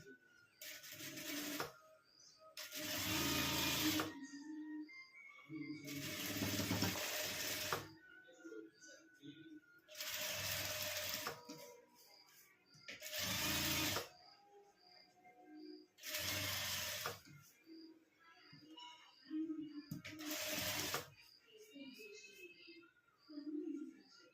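Sewing machine stitching fabric for a traditional cloth pouch (batwa), heard as six or seven close bursts of whirring machine noise of a few seconds each, separated by short pauses.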